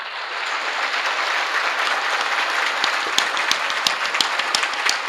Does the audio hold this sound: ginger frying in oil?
no